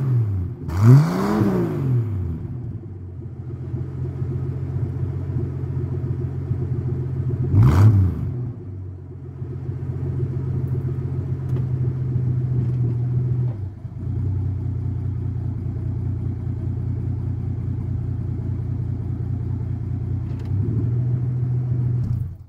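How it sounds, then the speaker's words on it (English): A 1981 Ford Mustang engine with a MagnaFlow single-exhaust muffler idles with a deep steady rumble and blips the throttle sharply twice, with a smaller rise near the end. "It does have, like I said, a MagnaFlow muffler on this thing. Single exhaust, so it does have a different tone than the other car."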